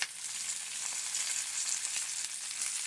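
A pan fries ingredients for rava pulihora, giving a bright, even, hissing sizzle that stays loud and steady throughout without pauses.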